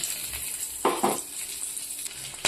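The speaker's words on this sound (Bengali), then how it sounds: "এখানে তেজপাতা, কাঁচা লঙ্কা, গোটা গরম মশলা দিয়ে দিলাম।" Bay leaves, green chillies and whole garam masala sizzle in hot oil in a pan for sating fish curry, a steady close frying hiss with a couple of louder crackling bursts as they are stirred.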